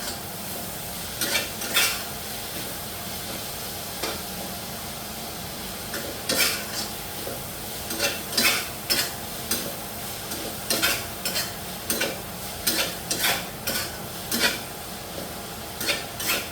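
Mixed vegetables with minced meat stir-fried in a pan, a constant sizzle broken by repeated sharp clacks and scrapes of a spatula on metal, speeding into a quick rhythmic run of strokes, close and prominent.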